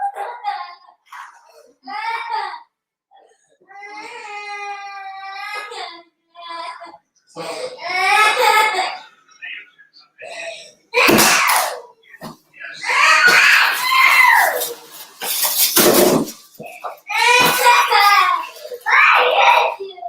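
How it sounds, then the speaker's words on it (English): A young child cries and screams in loud, broken bursts with sobbing and whimpering between outbursts, close by indoors, with an adult voice in places. "Stop crying. Stop screaming, please."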